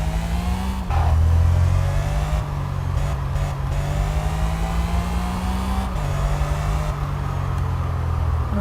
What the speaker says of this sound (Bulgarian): Доста шумно тази кола.